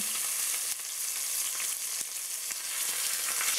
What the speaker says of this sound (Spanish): Con el aceite caliente vamos a empezar a freír las piezas de pollo porque así es como se sellan